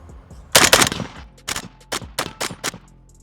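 A Bulgarian Red Star BSR47 rifle fires a rapid string of shots, first a tight burst of three or four close together and then several separate sharp cracks spaced by short gaps, loud and close, with no talking.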